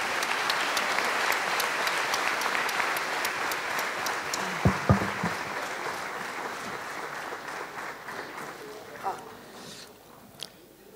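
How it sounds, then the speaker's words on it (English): Sustained applause from a large audience at a budget interaction event, a dense steady roar of clapping lasting many seconds, with a few sharper claps and faint voices mixed in. "We'll give him a thunderous applause."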